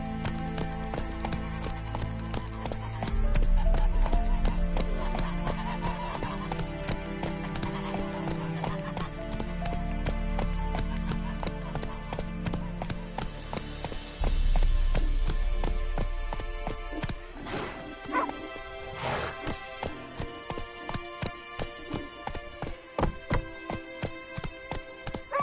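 Horse hooves clip-clop in a video game, galloping at first and then slowing to a steady trot, with a neigh partway through over game music and ambience.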